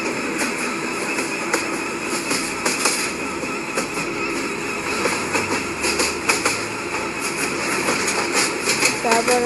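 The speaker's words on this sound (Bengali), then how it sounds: "ইঞ্জিনটা পুরো স্টেট লাইনে আসার পরে আমি একটু ফুল থ্রোটল মারব।" A train locomotive at full throttle in a Bangladeshi railway video game produces a steady engine rumble with rhythmic clicking and clattering, heard beneath someone talking.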